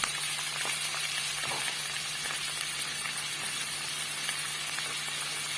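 Peppers frying with potatoes in olive oil in a pan, a constant close, broad sizzle with faint crackles and a low hum underneath.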